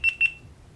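GoPro Hero 8 action camera beeping as it powers up: two short, clear high-pitched beeps in quick succession, close and alone, followed by quiet.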